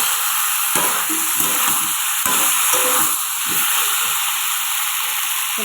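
Water poured into a pan of pumpkin and paneer curry sets off a loud, steady sizzle and hiss close up, with occasional spoon scrapes and bubbling pops through the cooking.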